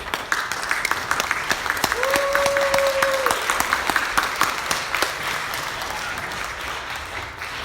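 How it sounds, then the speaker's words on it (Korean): A church congregation applauds the pastor as he steps up to preach, dense clapping filling the room at steady strength, with a sustained tone briefly audible in the middle. "목사님 나오실 때 박수로 환영해 주세요."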